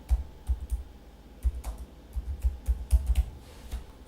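Keys clatter on a computer keyboard while Verilog code is typed, close and fairly quiet, with irregular bursts of quick clicks separated by brief pauses and no talking.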